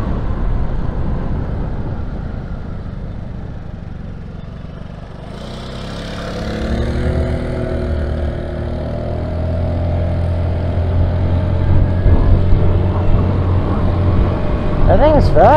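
A 2022 Honda Navi scooter pulls at full throttle: a steady engine drone builds and climbs in pitch, then holds a loud, sustained whine over rushing wind and road noise.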